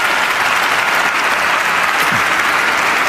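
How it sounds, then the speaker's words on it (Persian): An audience at a Quran recitation event claps steadily and loudly throughout, a dense wash of applause with no pauses. "حالا تشویق کنیم."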